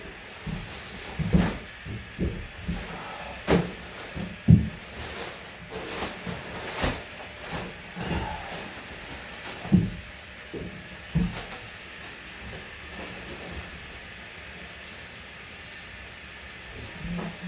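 A Flextail electric air pump runs inside a stone bothy, a steady high motor whine over rushing airflow that persists throughout, with scattered soft knocks and thumps around it.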